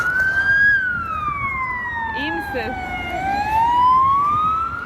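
An ambulance siren wails loud and close, its pitch rising and then sliding down as it passes, then climbing again, with a voice speaking briefly over it.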